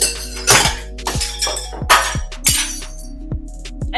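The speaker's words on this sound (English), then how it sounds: "I just broke a glass." Glass breaking in a kitchen during cooking, a sharp shattering crash followed by several clinking, tinkling impacts of falling shards over a few seconds, close and loud with no talk.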